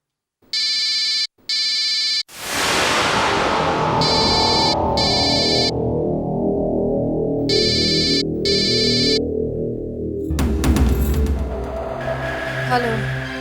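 A telephone ringtone in a Hindi TV drama serial sounds in two short repeated electronic bursts, then gives way to loud dramatic background music. The ringing returns in two more pairs of bursts over the music, and a harsh noisy stretch comes near the end.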